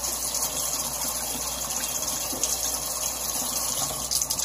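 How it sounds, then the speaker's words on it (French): Water gushes steadily from a tap into a glass jar of seeds for sprouting, a loud continuous pour with a slight rise in pitch as the jar fills. "simplement remplir notre bocal pour que toutes les graines soient dedans"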